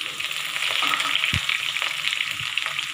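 Small shallots and curry leaves hitting hot oil with cumin seeds, a bright steady sizzle with a couple of soft thumps and stirring clicks, close and continuous, no one speaking.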